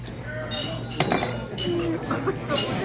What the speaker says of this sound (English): So if we get everybody to raise a glass.